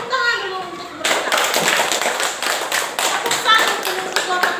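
Schoolchildren in a classroom break into clapping for a group of classmates: a sudden burst of many hands after a quiet moment, continuing as a brisk, dense patter with children's voices under it.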